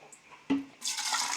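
Filtered water poured for a protein shake, a short splash and plop followed by a steady, bright hiss of running liquid, close and moderately loud.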